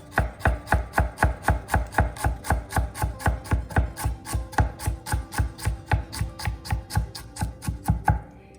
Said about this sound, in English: So just give this a couple fine slices here.